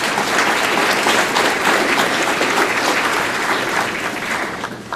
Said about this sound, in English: Will you please give a round of applause for these new chapter partners?